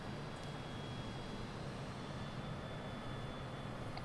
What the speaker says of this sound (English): I don't know what type of plane that is, Flying Singer.